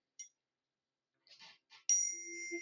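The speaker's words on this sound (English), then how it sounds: "Tuning forks are designed to have a specific natural frequency." A struck tuning fork rings with a pure, sustained tone that holds steadily after the strike, preceded by a few brief faint knocks and handling sounds, heard close and without talk.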